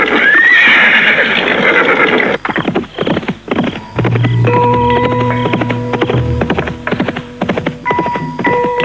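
A horse neighs loudly up close as an audio drama effect, followed by a steady, rhythmic clip-clop of hooves on a path through a forest at night, with no voices.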